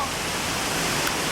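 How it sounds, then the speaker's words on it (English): A waterfall roars in a short, unbroken rush of broadband noise, loud and constant throughout. "Beautiful waterfall!"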